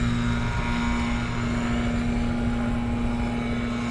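An RAF Typhoon fighter jet flies the airfield circuit at RAF Coningsby, giving a steady, continuous engine roar with a sustained tonal whine. The sound holds level throughout, with no voices.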